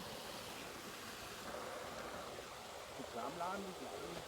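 Water spilling over an overflow weir into a forest stream beside a village water source, a steady broadband rush heard up close under a person talking.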